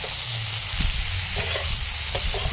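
Fried eggs and soybean chunks are sautéed in a pan, giving a loud, constant sizzle with low scraping and stirring thumps underneath, close up and without any speech.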